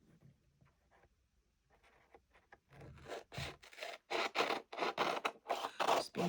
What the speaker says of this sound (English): So I'm just going to trim this off.